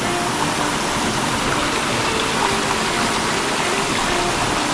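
A mountain stream rushes steadily close by on the way to Pahalgam in Kashmir, its dense, unbroken broadband roar of churning water filling the whole stretch with no pauses.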